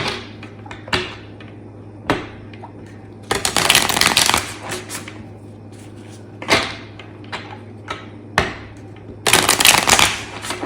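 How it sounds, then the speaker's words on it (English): A new deck of tarot cards is shuffled repeatedly: sharp riffles and taps, with two longer, louder riffling bursts, close up and crisp. "It's my first time using it, so I need to do a good hard shuffle."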